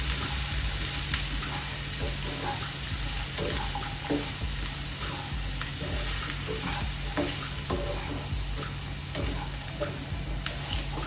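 Turmeric being stirred into food frying in a pan for a Kerala thoran: a steady close sizzle with a spoon scraping and clinking at intervals throughout, no voices.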